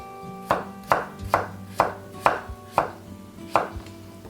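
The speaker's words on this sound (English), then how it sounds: "let's begin dicing some potatoes, and I'm using here rustic potato and they're peeled and washed" Peeled, washed rustic potatoes are diced with a knife on a board, giving eight crisp, evenly spaced chops that land close and clear with no voices.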